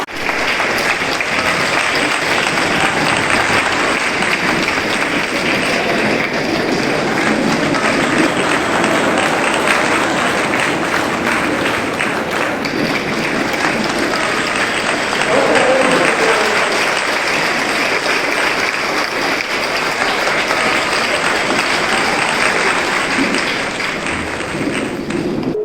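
An audience applauds to welcome a district judge as guest at a ceremony honouring successful Group II exam candidates, with steady, dense clapping sustained throughout, loud and continuous.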